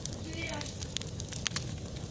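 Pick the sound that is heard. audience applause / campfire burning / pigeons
campfire burning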